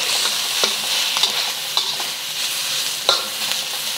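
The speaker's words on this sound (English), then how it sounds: "adding our onions and red pepper. Stir fry this for about a minute" Onions and red pepper stir-fried in hot oil for Singapore noodles, a constant close sizzle punctuated by repeated clicks and scrapes of a utensil tossing the vegetables, no talking.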